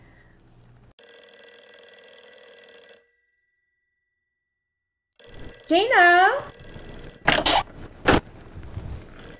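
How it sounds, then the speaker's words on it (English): A telephone bell rings in two sustained metallic bursts separated by silence, then someone speaks briefly near the end. "Answer that phone"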